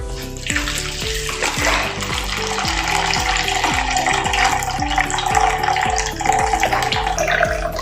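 Water poured off soaked rava batter for kurdai, a noisy splashing and trickling stream running steadily and close up, with a pulsing rhythmic scrape or stir beneath it throughout.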